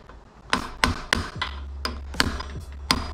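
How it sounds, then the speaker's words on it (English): Sharp, light hammer taps on a press against a Wolf Tooth bike headset cup on a Vitus Sentier mountain bike, about eight distinct metallic knocks in an uneven rhythm, close by with a low hum beneath. "we're just gonna take our hammer and our press and just go along the edge and just lightly tap it"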